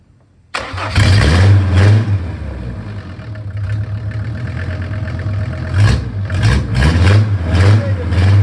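A SsangYong OM662 2.9-litre diesel engine cranks and catches after a moment of quiet, then runs loudly and roughly, with several revs rising toward the end.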